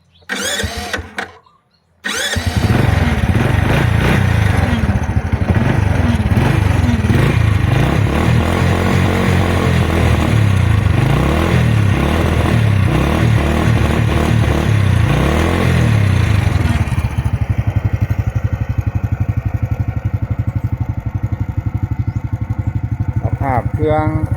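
A Honda Wave 100 motorcycle with electric start cranks briefly, catches, and settles into a loud, steady idle recorded close up, the engine note running continuously without talk.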